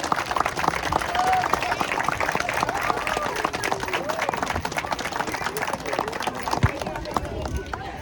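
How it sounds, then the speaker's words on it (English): Outdoor crowd at a playground ribbon-cutting applauding a project manager, brisk, dense clapping that continues steadily for several seconds, fairly near, with scattered voices and a cheer or two mixed in. "I want to give Michelle an amazing round of applause"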